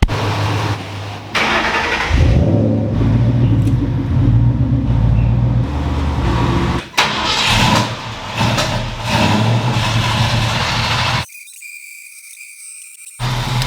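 A car being driven in and parked, its engine running steadily up close with rises and dips in revs, then cutting off near the end.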